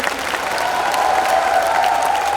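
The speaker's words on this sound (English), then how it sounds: "please give these 3 wonderful people on stage a big round of applause" An audience at a stage talk event applauds the people on stage, a dense, steady burst of clapping from a crowd lasting a couple of seconds.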